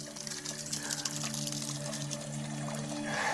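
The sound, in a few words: spring water flowing out of the ground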